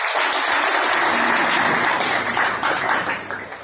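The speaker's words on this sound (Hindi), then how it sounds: "जोरदार तालियां होना चाहिए कोलकाता की।" Loud, dense applause from a meeting audience for the Kolkata team, sustained throughout and tapering off slightly near the end.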